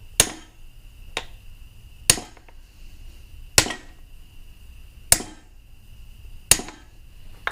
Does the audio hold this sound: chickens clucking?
no